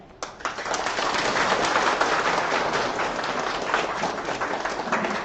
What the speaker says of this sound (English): giving big round of applause to Dr. Doris Padmini